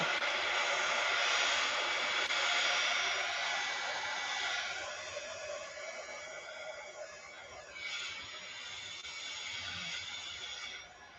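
A hair dryer blows on oxide inks over photo paper, a steady close whooshing roar of airflow that dips and swells slightly as it moves, with no speech.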